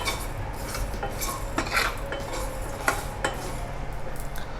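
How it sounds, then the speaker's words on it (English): Dry spices for a Coorg-style pandi mutton curry masala being stirred and roasted in a pan, a steady scrape of utensil against metal with clinks and a soft dry crackle running throughout, close and fairly loud, with no talking. "just keep on stirring so that they should not burn"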